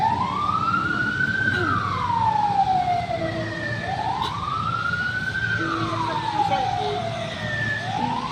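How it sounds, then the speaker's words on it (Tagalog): An ambulance siren wails, sweeping slowly up and down in long repeating cycles, loud and steady, with people talking faintly underneath. "Ah, ingay pa ambulansya."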